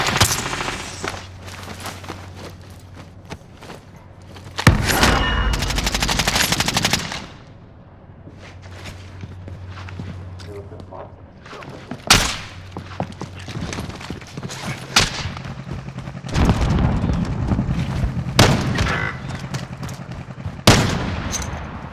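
Bursts of automatic gunfire and single shots from a Call of Duty Warzone match, loud and close, recurring in sharp clusters across the stretch with lulls of lower game ambience between them.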